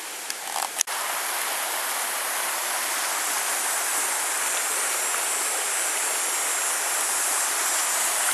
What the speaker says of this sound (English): This is the Credit River in Mississauga, Credit River Conservation Area.